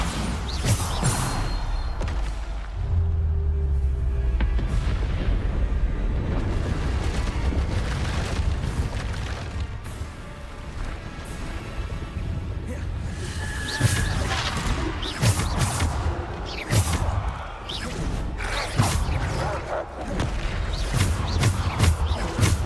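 Repeated booming spell explosions in Hogwarts Legacy, loud and layered with crashing impacts and battle noise, continuing densely throughout with little pause.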